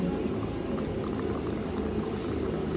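Free-flowing barako coffee streams steadily from an unlimited dispenser, a continuous close liquid gurgle and splash with no talk over it.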